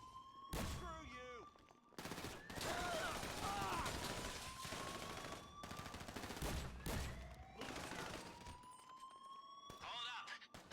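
Video game gunfire crackles in dense bursts and rapid volleys alongside siren-like wails, loud and chaotic, with voices shouting over the combat.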